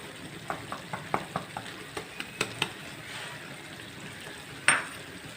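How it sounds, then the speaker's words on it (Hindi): Chicken karahi masala being stirred and fried in a pan, a series of spoon taps and scrapes in quick rhythm over a soft sizzle, followed by a louder clank, close and without talking. "अच्छे से मिक्स कर लेना है और खूब अच्छे से भूनना है।"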